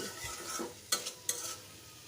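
Papaya sautéing in a pan is stirred with a spoon, giving a soft low sizzle with two sharp scraping clacks against the pan, quiet and close, without talk.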